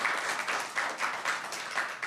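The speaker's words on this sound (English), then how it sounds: "applause to our speaker, Lynn." Audience applause at a speaker series event, steady clapping from a room of people lasting the full moment, moderately loud with rhythmic pulses.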